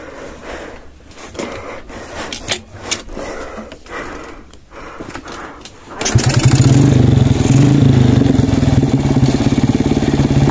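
A trail motorcycle out on an off-road trail ride roars to life partway through and revs hard and loud, close to the microphone, after several seconds of quieter ambient noise and scattered knocks.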